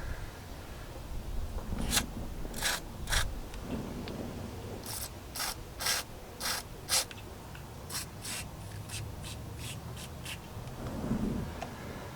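Leak detector spray is sprayed on a caravan or motorhome tyre valve in a series of short, sharp hissing bursts, some single and some in quick clusters, close and moderately loud, with no talk.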